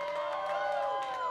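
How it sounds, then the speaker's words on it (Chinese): The crowd at a band competition final cheers and screams for a youth band taking the stage. High, sustained shrieks and whoops ring out in the hall, with a few sliding screams near the end. "尖叫声再次"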